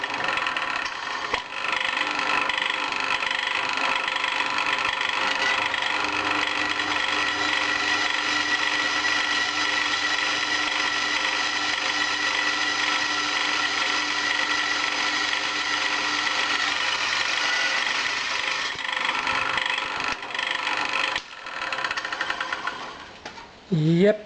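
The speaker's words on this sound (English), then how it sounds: "I'll see if I can drill the mounting holes" A drill boring mounting holes through a thin, soft iron casting made from disc brake rotors, a sustained steady whirring and grinding that runs unbroken for about twenty seconds before stopping, close and fairly loud.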